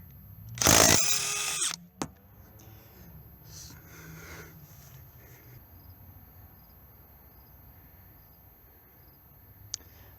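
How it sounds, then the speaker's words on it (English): A DeWalt Atomic 3/8-inch cordless compact impact wrench with a 19mm socket hammers at a car lug nut in one loud, rattling burst of about a second, then falls to near silence with a few faint clicks. "on this impact wrench, I have a 19mm socket, and these are lug nuts"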